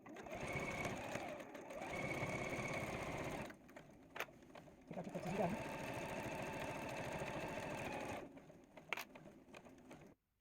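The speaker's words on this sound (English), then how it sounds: "we're going to go to the machine and sew a 1/4 inch straight down" A sewing machine stitches a quarter-inch straight seam on a quilt-as-you-go potato chip quilt block, running in steady whirring bursts with short pauses and a few clicks between runs.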